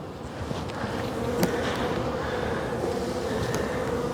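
Honey bees from a defensive colony swarm around an opened hive, their dense, steady buzzing close and constant with no talk over it.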